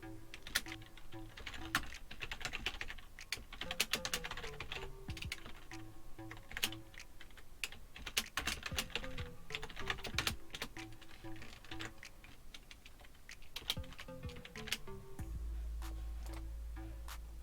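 Code being typed on a computer keyboard in Android Studio, a quiet, fairly steady patter of close key clicks and taps that runs throughout.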